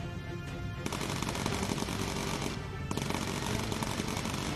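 Rapid machine gun fire from an attacking enemy fighter and a bomber's rear gunner in the Bomber Crew game, loud continuous bursts packed tightly with no speech over them.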